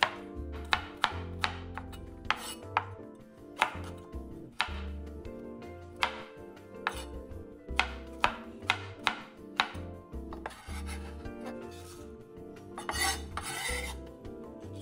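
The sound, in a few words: chopping baby corn into small pieces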